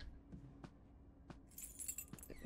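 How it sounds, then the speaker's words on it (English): Keys being picked up in the FNAF Into The Pit video game: a few short metallic jingles and clinks, close and fairly quiet, ending in a brighter burst of high jangling. "The keys. Key to the arcade."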